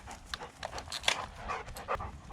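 Several dogs pant close by in quick, ragged bursts of breath, with an occasional whimper-like catch, throughout and without speech.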